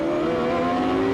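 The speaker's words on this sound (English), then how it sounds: "Now listen to the engine note." Race car engine at the 1994 Toyota Grand Prix of Monterey, a steady high-pitched droning engine note holding fairly loud through a hairpin section, with no talk.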